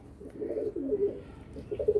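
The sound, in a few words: Madrasi pigeons cooing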